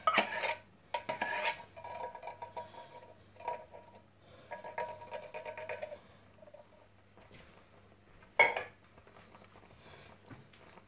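Utensil scraping and clinking against a pot while coconut milk is stirred for ginataang manok, chicken in coconut milk, coming as intermittent close clatters with a soft steady hum underneath.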